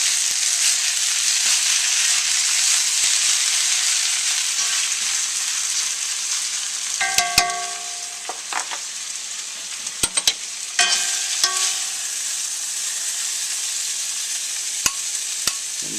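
Ramen stir fry with pork, shrimp and vegetables sizzling steadily in a hot wok, a constant hiss with occasional clinks and scrapes of a utensil partway through, no talking.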